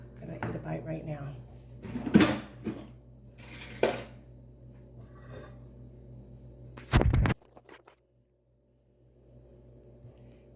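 A fork or spoon scrapes and clinks against a dish of shrimp scampi pasta, with a few sharp clatters and a louder knock near the middle, quiet and close, set against a low room hum.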